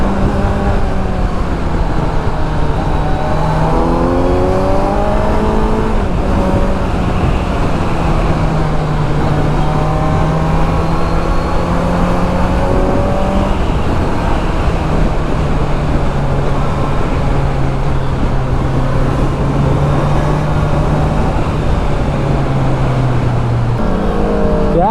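A superbike's exhaust revs loudly and continuously, with rising and falling engine pitch sweeping through repeated throttle blips, close by and alone without talk.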